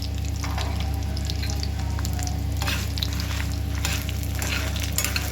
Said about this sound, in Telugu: దానిలోనే మనం ధనియాలు, జీలకర్ర కూడా వేసి ఫ్రై చేయాలండి.